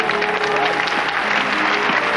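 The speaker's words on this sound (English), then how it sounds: "Big round of applause for Nicole." Audience at a magic show applauds a volunteer, a short steady round of dense clapping at moderate loudness with faint crowd murmur and voices underneath.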